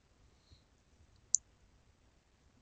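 One sharp, close computer mouse click stands alone against faint background hiss, followed by a softer tick at the very end.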